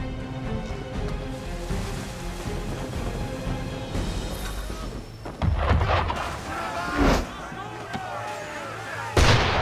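Ship cannon fire from Assassin's Creed 3, a series of booming blasts against a continuous roaring, sea-battle backdrop, with heavier hits near the middle and end and voices talking over it.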